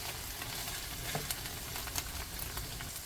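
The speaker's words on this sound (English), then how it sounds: "Then it is a moment to add the diced onions. Continue to fry them until the onion turns translucent." Diced onions frying in a pot for a one-pot spaghetti bolognese give a faint, steady crackling sizzle with a few soft stirring clicks, alone and without any voices.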